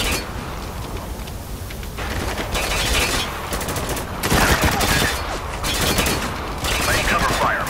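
Sustained bursts of rapid automatic gunfire in the Spec Ops: The Line video game, dense and loud with rattling mechanical clatter and brief lulls between volleys.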